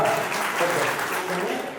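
Audience at a fifth-anniversary community gathering breaks into steady, dense applause, a continuous wash of clapping that fills the whole moment, with faint voices mixed underneath.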